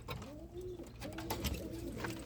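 Soft, repeated cooing of pigeons nearby, several low rolling calls overlapping with faint rustling in the background.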